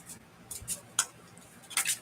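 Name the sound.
shuffling a deck of oracle cards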